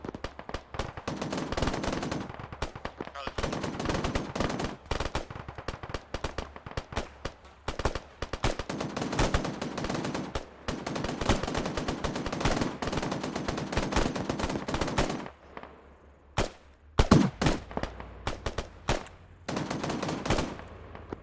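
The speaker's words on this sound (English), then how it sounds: "hold position here, covering fire southeast" Sustained machine-gun covering fire in a military video game during a platoon training session: dense, loud bursts rattle almost continuously for about fifteen seconds, then give way to sparser, scattered shots.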